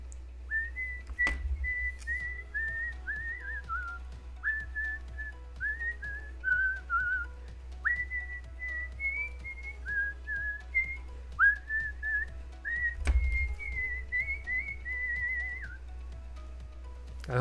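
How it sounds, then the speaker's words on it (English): A person whistles a meandering tune close by, a string of short sliding phrases over about seventeen seconds with a steady low hum underneath and two sharp clicks. "I hope my whistles aren't too loud and they're not deafening."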